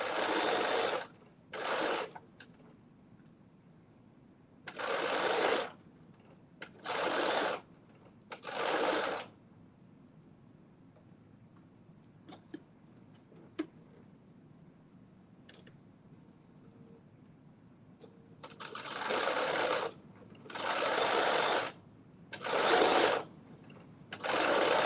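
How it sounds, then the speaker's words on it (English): A sewing machine stitches the side seams of a garment in several short bursts of rapid whirring, separated by quiet pauses, with a longer run of bursts near the end. "right sides together, we are stitching our side seams in"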